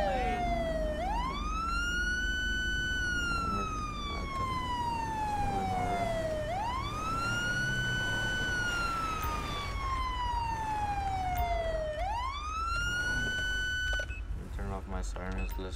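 A police car siren in the video game GTA 5 wails, rising and falling in long slow sweeps, loud and continuous, over a low engine rumble.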